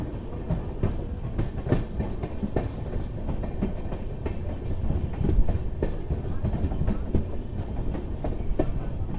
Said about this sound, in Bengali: হাওড়া থেকে 295 কিলোমিটার পথ অতিক্রম করার পর আমাদের ট্রেন এসে পৌঁছে গেল এবার নিউ ফারাক্কা জংশনে